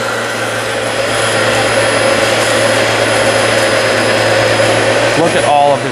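A Dyson Slim Ball upright vacuum cleaner runs continuously on a dirty carpet, a steady loud whirring motor drone with airflow hiss, close by, with a brief voice near the end.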